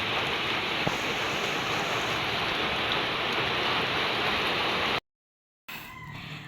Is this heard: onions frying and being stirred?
no